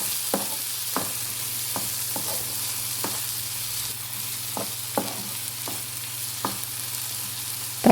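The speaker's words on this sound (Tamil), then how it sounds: "இப்போ தக்காளியை நம்ம வதக்கி விட்டுக்கலாம்." Tomato sautéing in a pan for a potato and egg stir-fry, a steady low sizzle punctuated by regular clicks of a spatula stirring against the pan over a constant background hum.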